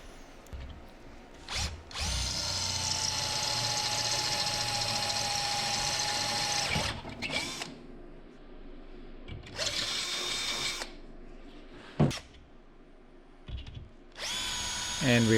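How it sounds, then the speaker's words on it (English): A power drill whines in several bursts drilling holes for a flight-sim throttle mount, one long run then shorter ones, with brief pauses and faint talk between. "So now we're drilling holes"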